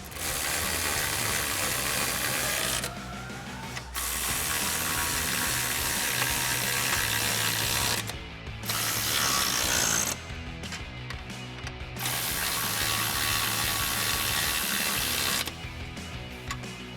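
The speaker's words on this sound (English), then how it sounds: "tighten all of our nuts down with our 13mm socket on" A ratchet with a 13mm socket tightens nuts on running board brackets for a 2017-2024 Ford F-250, giving a continuous loud clicking run broken by short pauses between strokes.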